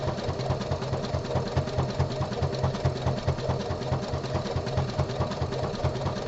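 A home sewing machine runs steadily, stitching a boxer brief body panel in a fast, even mechanical rhythm with a low motor hum and rapid needle clatter, close and continuous throughout.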